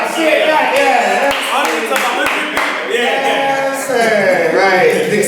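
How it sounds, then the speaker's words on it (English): Several people in a podcast room clap by hand, giving scattered claps and a few sharp taps. The clapping sits beneath people talking and laughing close to the microphone. "clap, right? Applause, right?"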